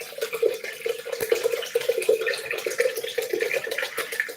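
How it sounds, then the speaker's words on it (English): Purified water pours steadily into a pitcher with a continuous gurgling splash, close and moderately loud throughout. "So I'm gonna put a couple of bottles of purified water"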